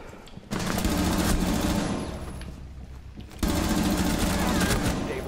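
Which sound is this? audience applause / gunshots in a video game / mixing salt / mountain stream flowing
gunshots in a video game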